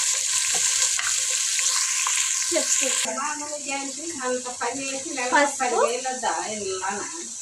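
Vegetables with salt and turmeric are stirred in a pan, making a continuous frying hiss and soft scraping, while someone talks over the cooking for most of the stretch.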